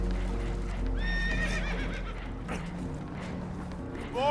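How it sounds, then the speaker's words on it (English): Spooked horses whinny in Red Dead Redemption 2 aboard a holed boat taking on water: a loud, shrill neigh rises and falls near the start, hooves clatter beneath, and another whinny breaks out right at the end. "Horses are spooked, and we're taking on water."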